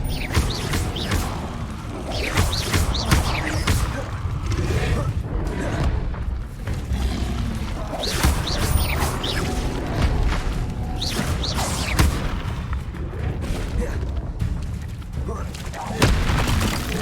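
Confringo fire-blast spells and other combat spells detonate in Hogwarts Legacy, with repeated loud booms and crashes over a dense, continuous rumble of fighting.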